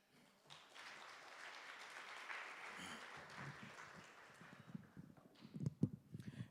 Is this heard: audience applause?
yes